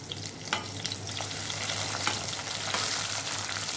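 Diced onions and green chilies fry in hot oil with a loud, continuous close sizzle, broken by a few sharp crackles and stirring clatters.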